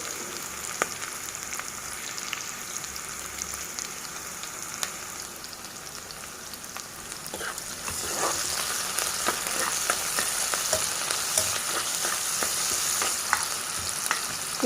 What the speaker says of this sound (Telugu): ఆనియన్ వేస్తూనే కాస్త ఉప్పు వేసామంటే మనకి ఆనియన్ త్వరగా ఫ్రై అయిపోతుంది